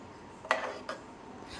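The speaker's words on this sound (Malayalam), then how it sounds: "നല്ലതുപോലെ ഒന്ന് ഇളക്കി കൊടുക്കാം." A spoon clinks and scrapes against a pot while stirring herbal kanji porridge, two short distinct knocks with soft rubbing between, fairly quiet and close.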